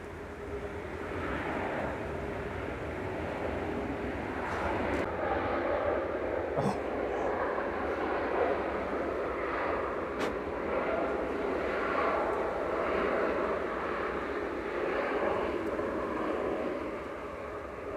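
A Qatar Airways Boeing 787-9 arrives at Manchester Airport from Doha, its engines giving a steady, moderately distant roar with a few brief clicks, while voices chat over the top.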